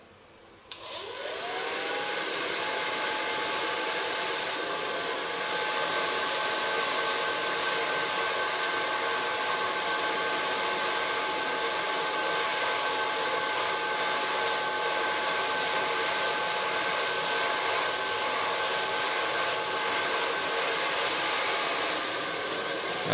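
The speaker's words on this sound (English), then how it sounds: "And of course my Kiona blow dryer." A Kiona blow dryer runs steadily on short hair in a salon, a loud continuous whooshing roar with a faint high whine that starts abruptly and holds level throughout, with no talking.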